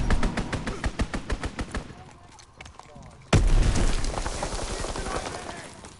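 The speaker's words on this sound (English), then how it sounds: "Fall back, strafing run inbound." A strafing run in a video game: a rapid string of loud, evenly spaced gunfire thuds, a brief lull, then a sudden heavy explosion followed by rumbling, crackling aftermath, with voices talking over it.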